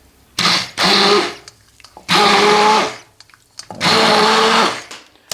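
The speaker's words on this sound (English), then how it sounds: "So I'm just going to blend all this." A blender runs in three loud bursts of a few seconds each, puréeing a soup of canna arrowroot and yacon in red emperor fish stock, with short quiet pauses between them.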